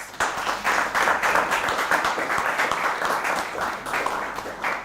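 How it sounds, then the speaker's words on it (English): A live studio audience of college students from Ghana gives a round of applause on a televised business roundtable, a steady, fairly loud burst of many hands clapping that fades slightly toward the end. "Can they give us a round of applause?"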